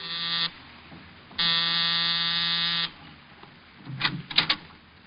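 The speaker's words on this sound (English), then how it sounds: "A half hour after I left George Victor, I was punching the buzzer to Saxon's apartment." An apartment door buzzer sounds twice, a short burst then a longer harsh drone, followed by faint clatter and shuffling noises.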